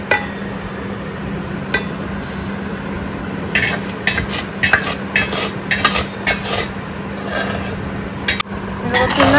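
Cooled oil being stirred into raw mango pickle, scattered clinks and scrapes of a spoon against a metal bowl over a constant background hum, with occasional talk.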